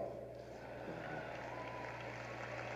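A conference audience at AIPAC 2012 applauds in a large hall, a faint, distant, steady wash of clapping over a low hum throughout.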